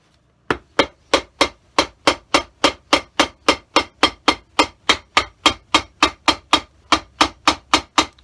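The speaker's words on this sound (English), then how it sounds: "here comes the hammering noise" Hammer striking leather during restoration of a Tom Ford bag, about two dozen sharp, loud, evenly spaced blows in a steady rhythm, close up with no talking.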